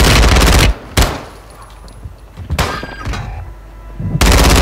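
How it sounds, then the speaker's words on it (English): An exploding shotgun fires in the Call of Duty Warzone video game: three or four heavy, booming blasts land at irregular intervals, each very loud and close, with quieter game ambience between them. "he has an exploding shotgun"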